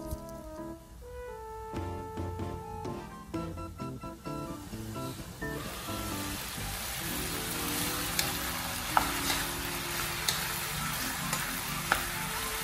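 Meat being stirred with its ingredients in a pan for spicy, creamy Bicol Express, a steady sizzle with scraping and clinking of the utensil, busier at first and then settling into a continuous frying hiss with a few sharp ticks.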